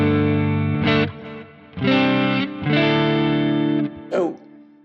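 Electric guitar through a Quad Cortex dual amp preset pairing Mesa Boogie Lone Star and Plexi models with tape delay and reverb, a few mostly clean, slightly gritty sustained chords and a short final strum, played alone.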